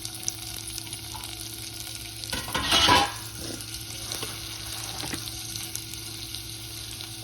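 Chayote pieces sizzle in a pan with a steady low crackle, broken by a brief louder scrape and swish of stirring near the middle.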